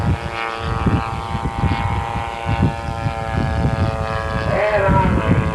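Giant scale radio-controlled model of the Turner Special Golden Era racing airplane flying at an RC airshow, its engine drone steady with a rising whine near the end, under ongoing commentary.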